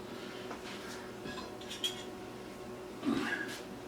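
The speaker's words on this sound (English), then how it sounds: "We're going to put the lid on this." A lid is set on a cooking pot of Texas hash left to simmer, giving a couple of light metallic clinks over a quiet kitchen background, with no talking.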